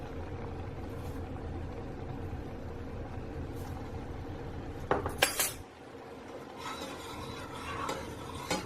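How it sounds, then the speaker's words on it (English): A spoon scrapes and clinks steadily around a cooking pot as chia seeds are stirred in, with a louder metallic rattle partway through and a soft background hum. "we are to stir in our chia seeds"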